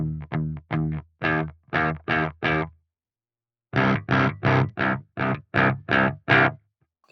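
Muted electric guitar chugs with medium-gain distortion and a bright tone through a Holy Island Audio Tides pedal, played in two bursts of short, evenly spaced stabs separated by a brief pause, close and clear with no talking.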